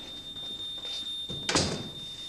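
A smoke alarm keeps up a thin, high-pitched tone throughout, faint in the background, while a door thuds softly partway through.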